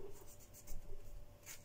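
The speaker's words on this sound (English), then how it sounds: "And that's the lime, lemon. I'm just going to cut it." A lime being cut with a knife, giving soft, close scraping and slicing strokes in a short repeated rhythm, faint and without talking.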